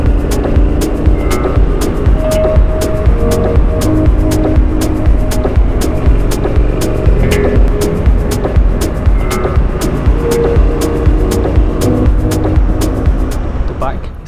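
A 2021 Triumph Street Scrambler Sandstorm Limited Edition is ridden on the open road, giving a loud, continuous engine rumble and wind rush throughout, with a voice talking over it.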